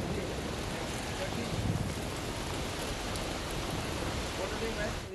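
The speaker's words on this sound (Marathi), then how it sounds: "वर्सोवामध्ये देखील जोरदार पाऊस सुरू आहे।" Heavy rain pouring over Versova in the Mumbai suburbs, a dense, steady hiss with a constant roar, loud and unbroken throughout with no clear voices.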